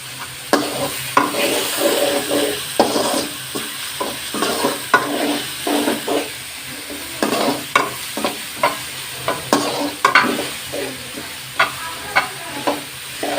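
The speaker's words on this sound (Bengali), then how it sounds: "আদা দিয়ে দিচ্ছি, তেজপত্র দিয়ে দিচ্ছি।" Ginger and bay leaves fry in hot oil for a banana flower and prawn curry, a continuous sizzle punctuated by repeated rhythmic scrapes of a spatula stirring in the pan, close and steady with no talking.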